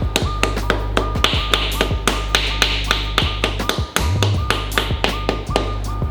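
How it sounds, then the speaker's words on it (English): A new seal being knocked into a Subaru STI six-speed gearbox with a fitted press cup: a steady run of sharp, close metallic taps, roughly three per second, over a constant low hum, with a brief pause and a thud near the end. "I've got a press cup that actually fits this seal perfect to be able to knock it in"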